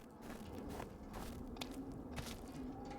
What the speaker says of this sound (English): And then crunchy snow when you move over to the crunchy snow.